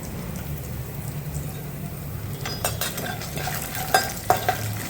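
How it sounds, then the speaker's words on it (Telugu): Peanuts and chana dal fry in hot tempering oil, a soft steady sizzle joined midway by sharper crackles and a few spoon-against-pan clinks. "ఈ పల్లీలు పోపు అనేది కాస్తంత మంచిగా వేగిపోవాలి."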